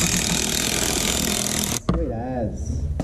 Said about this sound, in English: what's happening now is we're drilling the ring in here